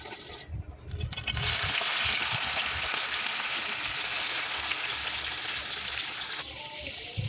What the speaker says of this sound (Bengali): মাছের মাথাগুলি আমি ভেজে নিচ্ছি।